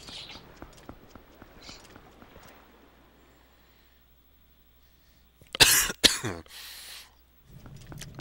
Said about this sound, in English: Sorry, I'm coughing into the mic sometimes.